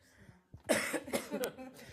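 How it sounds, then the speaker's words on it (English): After a quiet moment, a person coughs a few times up close, short harsh bursts with a throat-clearing quality. "I'm gonna cough real quick"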